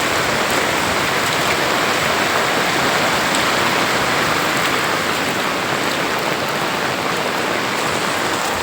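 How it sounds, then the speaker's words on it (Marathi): Heavy monsoon rain falling through the night in Kelthan with water running everywhere, a loud, steady roar of downpour and flowing water with no voices. "रात्रपासून पाणी चालू आहे आपल्याकडे"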